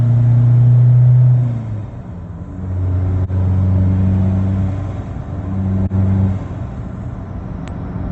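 An Isuzu D-Max 1.9 pickup accelerating hard as the turbo boost comes in, a loud, close engine drone rising through the gears with brief dips between pulls, no talk.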